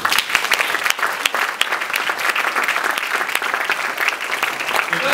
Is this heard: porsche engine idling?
no